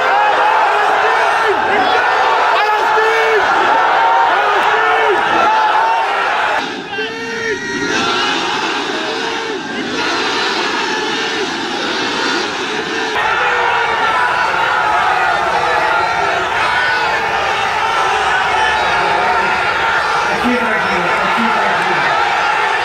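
Large crowd at a political rally for Asaduddin Owaisi chanting slogans in unison, loud and sustained roaring shouts in repeated waves, with a dense mass of voices throughout.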